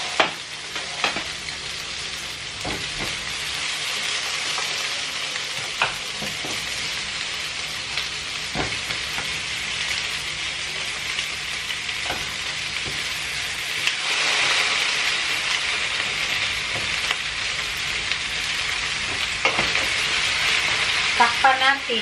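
Pork ribs sizzling and frying in a hot pan, a steady loud crackle with scattered pops and occasional stirring clatter throughout.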